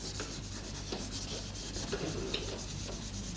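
Chalk or marker scratching and rubbing across a board as the word electrophorus is written in a classroom demonstration, a steady run of short strokes close by with no talking.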